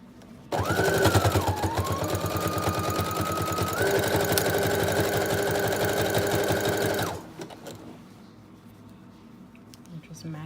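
A sewing machine stitching around a folded double layer of fabric for a tube top, a loud continuous whirring motor with rapid needle chatter for several seconds, close by, then stopping into quiet handling sounds.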